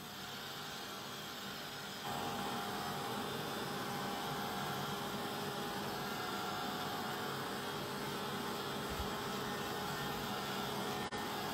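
A dryer blows a steady, even roar to dry paint on a journal page, kicking on after about two seconds and holding constant and moderately loud to the end, with no voices.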